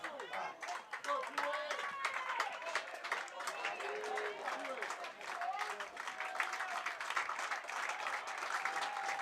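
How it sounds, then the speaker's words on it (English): Baseball crowd at a college game, La Crosse vs Stevens Point, gets loud for the batter, a fairly distant mix of clapping, shouts and cheers under a play-by-play announcer's voice. "Crowd gets loud for Anthony Tomjack."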